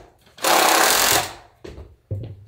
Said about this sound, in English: And then I'm just gonna go ahead and run a screw down there.